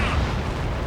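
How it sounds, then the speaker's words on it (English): Bunker buster bomb firing in Ace Combat 7, heard as a brief, loud, heavy roar of launch and blast noise filling the whole moment without a break. "Firing the bunker buster."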